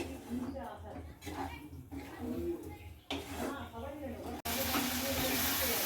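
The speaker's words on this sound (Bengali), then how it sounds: "দিচ্ছি খুব সামান্য পরিমাণে চিনি আর টমেটো বাটা আবারও ভালো করে কষিয়ে নেব" Mutton curry masala with a little sugar and tomato paste fries in a pan. A voice talks over soft sizzling, then a loud, steady sizzle bursts in near the end.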